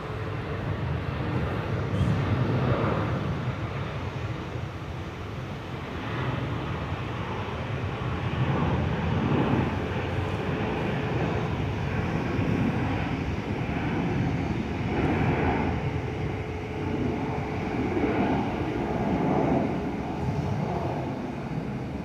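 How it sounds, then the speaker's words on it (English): An airliner bound for Port Hedland rolls and climbs away from the runway at Perth with a steady, fairly loud engine roar. The sound swells and eases in broad waves, heard from a spotting point and not overlaid by talk. "Nice and easily off, not taking up too much room at all on the runway"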